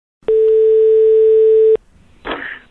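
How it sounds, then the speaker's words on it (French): A single steady telephone tone sounds clearly for about a second and a half as a secretary places an outgoing call, then cuts off, followed by a short burst of handset noise. "La secrétaire particulière de Bernard Arnault appelle Bernard Squarcini"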